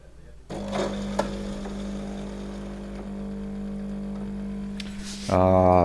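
Brewing unit of a Jura coffee machine working during pre-infusion with a maximum dose and fine grind: a steady low mechanical motor hum with a faint tick, ending in a louder buzzing pump-like drone.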